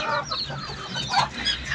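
A hen on a home poultry setup clucks repeatedly in short, uneven bursts, fairly close and steady over the whole stretch, with no voices over it.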